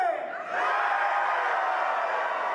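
A concert crowd screams in a sustained, loud roar that swells after a brief dip and holds steady to the end.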